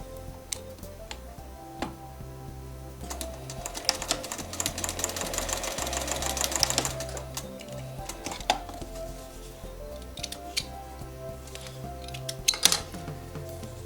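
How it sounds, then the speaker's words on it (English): A sewing machine joins two quilt sections in a steady burst of quick ticking stitches that rises in the middle of the clip and then gives way to quieter fabric handling and scattered clicks. "sewing the two final sections together"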